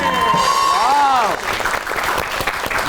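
Studio audience applause greets a model, actress and social media influencer as she arrives on a Pakistani comedy talk show, starting under music and a voice, then steady dense clapping filling the room.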